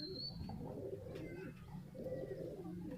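Teddy Ferozpuri pigeons, a paired breed, coo on a rooftop in a low, steady murmur of overlapping calls, close and continuous, with faint background noise and a brief high tone early on.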